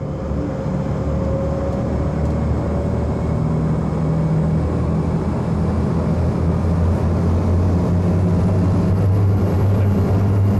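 Diesel engines of an RAF high speed launch, a modern-engined air sea rescue boat, roaring continuously as the craft rises onto the plane, a loud steady low rumble with rushing water and no talk.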